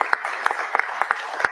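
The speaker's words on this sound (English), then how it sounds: "Everyone should give a hand clap for that." Scattered handclaps from a small audience at a housing authority announcement, a handful of distinct, fairly close claps in an irregular rhythm over a brief moment.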